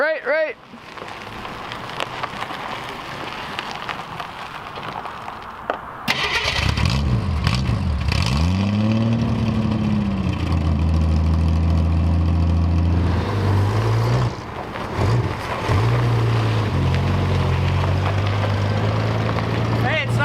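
A 1966 Mustang fitted with a new mechanical fuel pump cranks and catches after about six seconds, then settles into a loud, steady idle with rising and falling revs, close by, while people talk over it.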